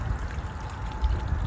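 Steady low rushing of water flowing, a continuous wash with no voices, moderately quiet throughout.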